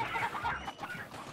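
A chicken in a furniture moving video game clucks in a quick, burbling series of short calls, fairly close and alone.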